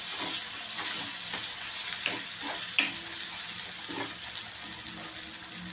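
A spoon stirs coriander-cumin powder and red chili powder into sizzling food in a pan for garlic palak paneer, with repeated scraping strokes over a steady close frying hiss.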